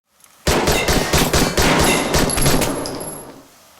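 Gunfire in an action film: a dense, rapid burst of loud shots with no pauses, fading slightly toward the end.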